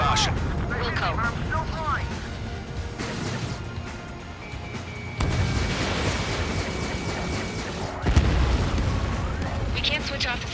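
Explosions and heavy blasts in the combat flight game Ace Combat 7, a loud sustained rumble with sudden bursts near the middle and end, under radio chatter and music.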